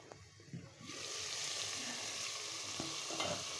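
Ginger, garlic and onion paste frying for a vegetable curry, a dense steady sizzle that swells after a short scraping start and carries on evenly with faint stirring knocks, close, with no talking.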